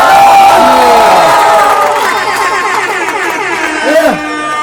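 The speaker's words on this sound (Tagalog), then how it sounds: "Aking pong hinihingi ang malakas na palakpakan at sigawan ng bahay ko!" Crowd at a rap battle cheering, whooping and shouting loudly and continuously, with a few high voices rising above the din and chatter throughout.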